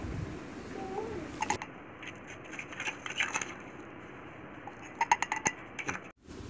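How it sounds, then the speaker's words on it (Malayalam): A spoon stirs sugar into strained mango juice for a homemade non-alcoholic drink, making quiet, irregular clinks and gritty scraping against the vessel in bursts over a faint background. "പഞ്ചസാര നന്നായിട്ടൊന്ന് മിക്സ് ചെയ്ത് കൊടുക്കുക ഇതേപോലെ."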